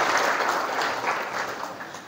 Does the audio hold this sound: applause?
yes